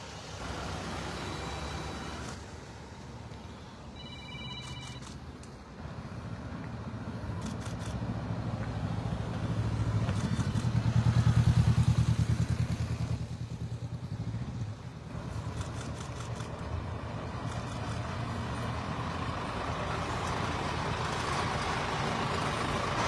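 Vehicles of a military funeral convoy carrying a soldier's body roll past at an army base in Udon Thani, Thailand. A steady engine and tire rumble swells to a peak midway, then settles into continued traffic noise.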